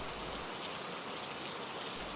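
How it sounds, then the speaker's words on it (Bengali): Steady rain falls outside a home veranda in monsoon season, a dense even hiss of drops on surfaces, constant and moderately loud throughout with no voices. "কখনো জোরে বৃষ্টি বা কখনো আস্তে বৃষ্টি হচ্ছে"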